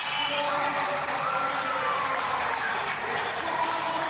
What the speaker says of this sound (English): Wonderful crowd coming through the turnstiles